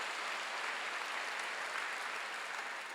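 A church congregation applauds during a Wednesday worship service, a steady broad wash of clapping that holds evenly at moderate loudness across the whole stretch with no voices above it.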